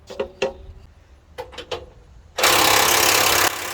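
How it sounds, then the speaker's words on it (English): A half-inch drive battery-powered impact wrench on a semi truck bolt: a few short bursts at first, then a loud, sustained rattling hammer that runs for about a second and drops off sharply near the end, close to the microphone. "He's let me use his half-inch drive impact battery power."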